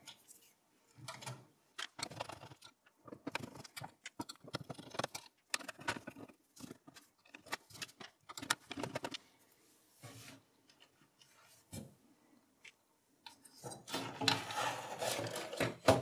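Screws being backed out of an HP Pro 3400 MT desktop case to free the motherboard: irregular metallic scraping and clicking bursts up close, with a louder rasping, rustling stretch at the end.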